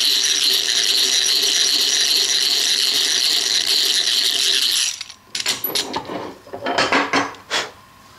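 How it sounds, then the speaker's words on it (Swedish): A hand drill (drillborr) bores into wood with a steady whirring, rasping buzz for about five seconds, then gives way to a few scattered clicks and knocks of the tool. "Och så borrar man sig på."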